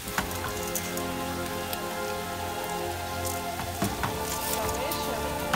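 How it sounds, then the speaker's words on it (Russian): Pasta sizzling and crackling in tomato sauce in a pan, a constant dense hiss with occasional sharper pops and scraping stirs. "Наши макаронки с томатным соусом будем жарить"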